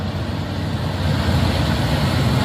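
A convoy of large trucks on a road, their engines giving a steady low rumble and heavy road noise close by, continuous and fairly loud throughout.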